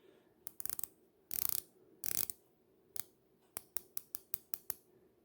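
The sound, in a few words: turning unidirectional dive watch bezel, NTH Nazario Sauro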